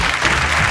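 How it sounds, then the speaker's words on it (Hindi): A studio audience on a Bhojpuri singing competition stage applauds the judges as they arrive, a brief, loud, dense burst of clapping heard up close. "जोरदार ताली के साथ स्वागत करी न्याय मंडल के"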